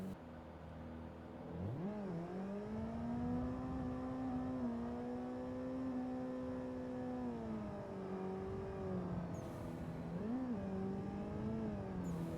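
A drifting car in the Assetto Corsa racing game drones with a steady engine note that climbs sharply as revs build, holds through the slide, then dips and surges again when the clutch is kicked.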